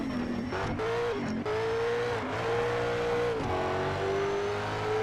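A racing car engine in the video game Need for Speed: Shift 2 Unleashed drones steadily at high revs, pitch stepping up and dropping briefly between gear shifts, loud and continuous with no voices.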